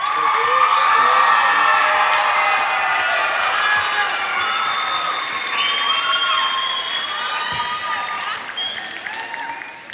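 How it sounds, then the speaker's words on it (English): An audience claps and cheers loudly at a high school band's Christmas concert, with whoops and shouts over a dense, sustained ovation. The applause tapers slightly toward the end. "let's give him another round of applause"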